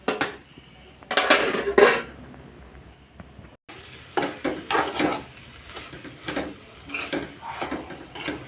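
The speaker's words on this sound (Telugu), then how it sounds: "ఇప్పుడైతే నేను మూత పెట్టుకుంటాను." A lid clanks onto a metal cooking pot of meal maker masala curry, with a couple of loud clattering knocks near the start followed by quieter kitchen clinks and handling noises.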